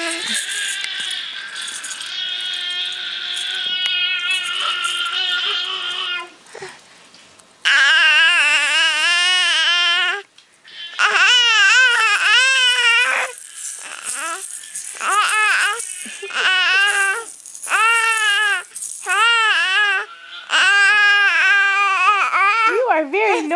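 An infant cries and babbles in loud, repeated wavering bursts with short pauses between, while an adult talks nearby and a baby rattle is mentioned in the scene.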